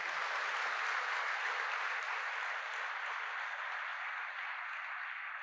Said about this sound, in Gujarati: એ લોકો માટે જોરદાર તાળીઓ પાડી દઈએ.